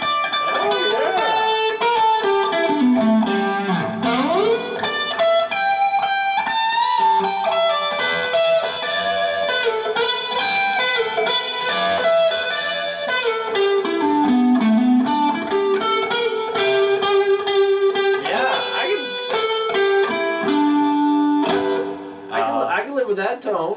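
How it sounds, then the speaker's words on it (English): A bluesy electric guitar lead played through a Marshall Studio SV20 amp with plate reverb, with bending, sustained notes and quick runs continuing alone for over twenty seconds. "Get some nice bluesy stuff going"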